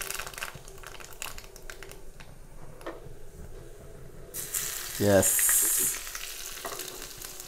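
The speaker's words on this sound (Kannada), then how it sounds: "ಸಾಸಿವೆ ಎಣ್ಣೆ ಎಲ್ಲ ಬಿಸಿಯಾಗಿದೆ. ಇದಕ್ಕೆ ಇನ್ನು ಬೆಳ್ಳುಳ್ಳಿಯನ್ನು ಆ್ಯಡ್ ಮಾಡುವ." Garlic dropped into hot mustard oil for tempering a cauliflower curry: a quiet stretch of faint stirring, then a sudden loud, close hiss and crackle that holds steady for a couple of seconds before easing off.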